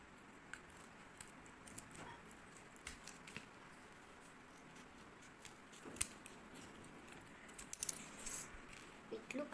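Scissors snip origami paper during a ninja sword craft, with faint, sparse cuts and small rustles over quiet room tone that grow a bit busier toward the end.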